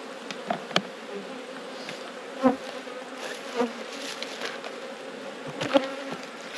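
Honey bees buzzing around an open hive during a brood inspection in the weeks before winter, a steady close hum with a few louder passes and soft clicks of frames being handled.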